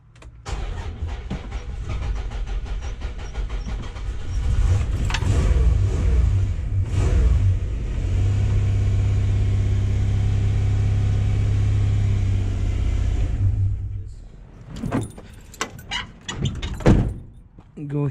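A Dodge Ram 1500 with a choke problem revs up and holds loudly for several seconds, then the engine note drops away as it stalls, followed by clunks and handling noises up close.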